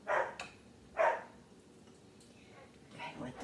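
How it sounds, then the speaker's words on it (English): A dog barks outside during a backyard barbecue pork roast cook, two sharp barks close together followed by fainter yips and light background noise, with no voices. "I don't know what that dog's doing out there. He's crazy."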